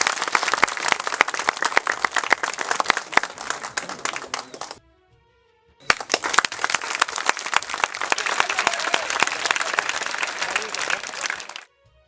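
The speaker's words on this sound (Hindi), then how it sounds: "जोरदार तालियां" Loud, dense audience applause at an award ceremony, sustained for about five seconds, breaking off briefly, then resuming for another six seconds before stopping abruptly.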